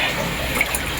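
Tap water runs in a steady broadband rush for laundry at home in the Philippines, close and continuous with no voices.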